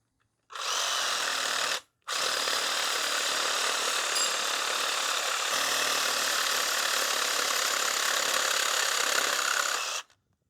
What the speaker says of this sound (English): This guy, though, will not come out, so I'm going to see about nipping it off.